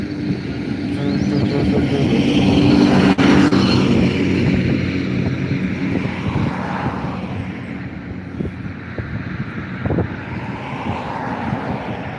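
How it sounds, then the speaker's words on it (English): An Aer Lingus A320 taxiing at Dublin Airport, its jet engines giving a loud, steady drone that holds for the whole stretch, with slight swells in the rumble. "now taxiing behind that Aer Lingus A320 from Budapest is a flight from Milan Linate"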